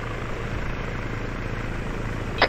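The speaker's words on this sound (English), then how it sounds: "Watch the little bird get shot down now." A Little Bird helicopter in Arma 3 drones with a steady, fairly close rotor and engine hum, unbroken throughout, ending with a brief sharp click.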